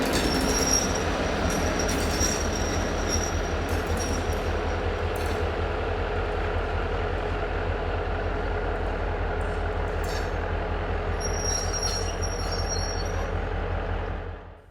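A Slovenian Railways Class 664 diesel locomotive approaches with a train at Prestanek, its heavy engine rumbling loudly and steadily throughout, with wheel squeals and metallic rail noise rising near the end.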